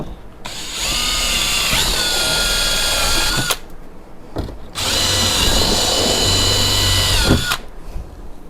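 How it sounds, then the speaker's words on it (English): A power drill runs in two long, steady bursts of several seconds each, drilling holes to fit fender flares on a Polaris RZR Pro R, with a short pause between, loud and close. "Now you can just go ahead and drill your inside holes."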